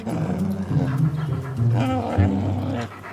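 A dog pants and whimpers close by in a steady run of breathy huffs and small whines over low room noise.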